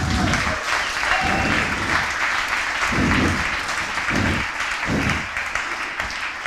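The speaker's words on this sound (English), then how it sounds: "Thank you for the applause." Sustained applause from a conference audience at the opening of a Scratch conference in Barcelona, dense and loud, filling the whole stretch with rhythmic swells of clapping and no talk over it.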